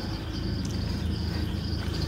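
A campervan with its door open gives off a continuous high-pitched squeal, a steady close tone over a dense, unbroken hiss and low hum with no talking.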